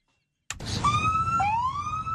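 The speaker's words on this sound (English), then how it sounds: "LAPD rushes in, lights and sirens," A police car siren kicks in abruptly after a moment of silence, wailing in rising sweeps, loud and close, with engine rumble underneath.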